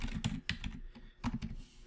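Quick keystrokes on a computer keyboard enter a network name in short clustered bursts of clicks with brief pauses between them, close and crisp, with no voices.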